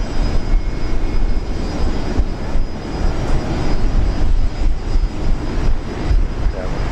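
An airliner departing Brisbane International Airport bound for Singapore, its jet engines producing a loud, sustained roar that fills the whole stretch steadily, heard from fairly close.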